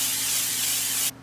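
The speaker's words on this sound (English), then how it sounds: "I'll probably put another spritz of olive oil spray right on top of them" Olive oil spray spritzed onto food for air-fried pork chops, a single loud continuous hiss about one second long that cuts off abruptly, alone.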